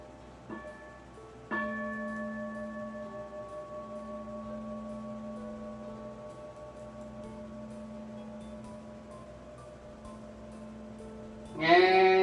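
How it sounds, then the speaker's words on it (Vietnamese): A mindfulness bell rings once with a soft preliminary tap, then a sustained, slowly fading metallic tone that lingers for about ten seconds, followed by a brief brighter clatter at the end. "listen to the sound of bell and practice breathing in and breathing out mindfully and consciously together"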